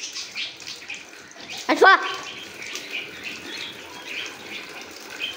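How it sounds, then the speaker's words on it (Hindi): Water trickling slowly from the lower tap, a steady soft flow running throughout, with a brief spoken word partway through. "पहले नीचे वाली टूटी से थोड़ा थोड़ा सा पानी कर रहा है"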